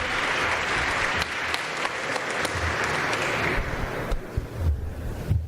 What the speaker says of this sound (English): can we give him a big round of applause for putting this venue together?